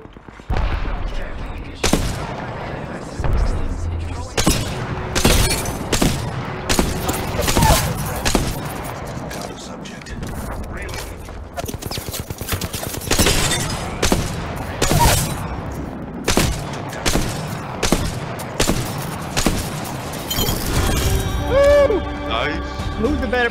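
Rapid bursts of enemy gunfire in Apex Legends, automatic weapons firing repeatedly in clustered volleys across the whole stretch, loud and close, with a player's voice talking over the shooting.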